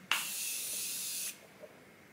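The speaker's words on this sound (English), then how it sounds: "I'm gonna spray my face." A face mist bottle sprays onto a face in one close, crisp hissing burst lasting about a second, followed by quiet.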